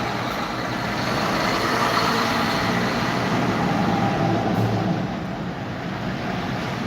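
Heavy semi-trucks and other traffic roll past on a busy street, a steady loud roar of engines and tire noise that swells slightly mid-way and holds throughout.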